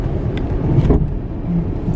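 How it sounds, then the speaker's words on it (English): Saab 9-5 car driving under light load, a steady close engine and road rumble from the cabin with slight rises in tone, no talk. "I'll drive for a bit and then I'll put my foot down, get the normal boost"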